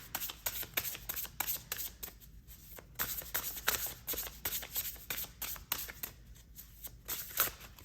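Tarot cards are shuffled in quick, repeated riffling bursts, close and soft, with a crisp papery rhythm and brief pauses between passes and no talking.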